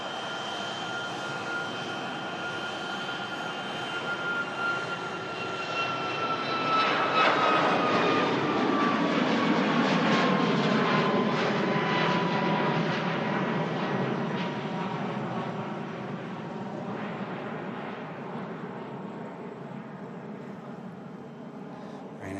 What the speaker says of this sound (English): Ryanair 73 climbs out, aircraft about to touch down